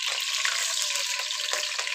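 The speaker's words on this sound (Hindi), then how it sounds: "अब मैंने इसके अंदर 1 टेबल स्पून पानी ऐड करना है" A tablespoon of water hitting hot oil tempered with green cardamom in a cooking pot, giving a loud, continuous hissing sputter that holds steady throughout.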